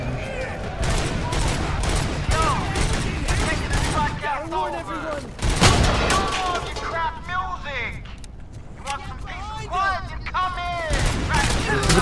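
Rapid bursts of video game gunfire crackle repeatedly in Robocop: Rogue City, with sharp shots and echoing blasts, while someone talks over the shooting in Russian.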